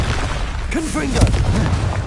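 In Hogwarts Legacy, a Confringo fire blast spell goes off with short booming bursts, while a voice calls out over the blasts.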